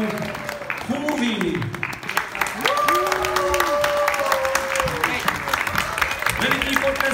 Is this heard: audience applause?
yes